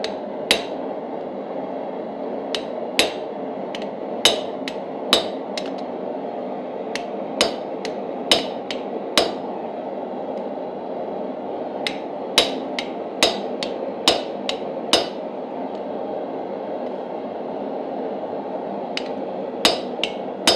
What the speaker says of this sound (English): Once you find your center, you hammer